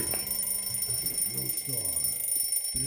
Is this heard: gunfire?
no